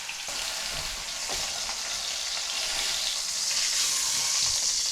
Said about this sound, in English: Go ahead and get that, let it start frying down.